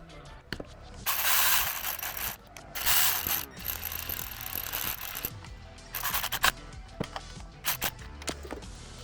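A hand ratchet clicks in bursts while thermostat housing bolts are reinstalled on a Jeep Wrangler JK, with dense, close-up pawl clicking alternating with brief pauses and light metallic handling noises, no talking.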